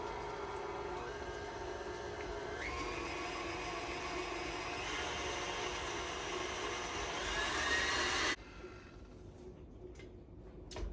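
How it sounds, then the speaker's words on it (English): A stand mixer with a whisk attachment creams banana cake batter, giving a steady, loud motor whir for about eight seconds before it abruptly cuts off, leaving a quieter room with faint knocks. "I always use my whisk attachment. And this is going to cream together for a good 10 minutes."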